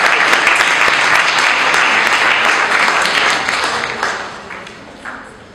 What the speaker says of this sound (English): maybe that should be followed by a clap of hands